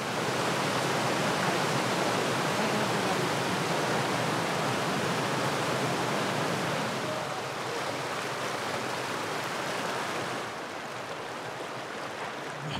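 Steady rushing water of a stream flowing out of Dream Lake in Rocky Mountain National Park, pouring over rocks, loud and close with a constant broadband hiss and no voices.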